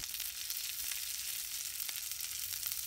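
Five green chilies sizzle in hot oil as a steady, dense crackle that fills the whole stretch without pause, close and continuous.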